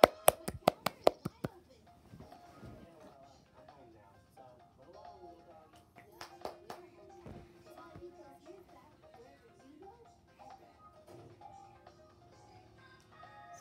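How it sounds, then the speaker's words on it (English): About half a dozen sharp, close hand claps burst out at the start during a home Mario Kart gaming championship, then give way to quieter room sounds and scattered voices. "Let's clap it up."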